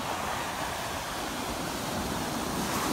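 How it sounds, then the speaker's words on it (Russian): Ocean waves break on a sandy beach at San Diego in the rain, producing a steady broadband wash of surf, fairly close and continuous with no talk. "Волны опять классные сегодня."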